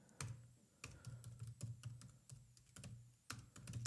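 Quick, close keystrokes on a computer keyboard tap out a command in uneven bursts, clear and alone.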